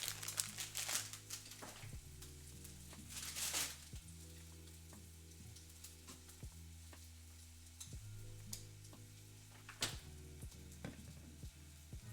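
A breakfast sandwich sizzles quietly in a pan just after being flipped, a faint frying hiss with occasional crinkly bursts and light clicks, no talking.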